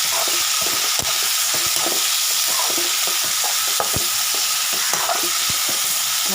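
Onions and tomatoes sautéing in a pan give a steady, close sizzle, broken by repeated scraping and clinking stirs from a spoon across the whole stretch, with no talking.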